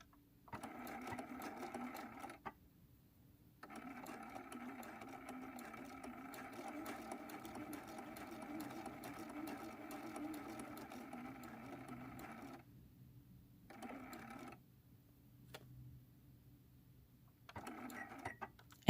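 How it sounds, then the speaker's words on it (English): A sewing machine stitches small diamond-template pieces of a Texas Star quilt block ornament in steady close bursts of rapid needle hum, stopping and restarting several times for back stitches, with short quiet pauses between runs. "sew down to the very tip of the diamond template"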